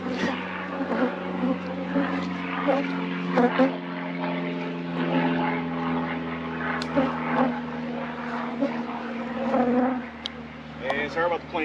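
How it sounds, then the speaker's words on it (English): A propeller airplane passes overhead near a runway approach path, a steady droning hum at moderate distance under someone talking and the buzz of bees at an outdoor beehive yard. "sorry about the plane going over"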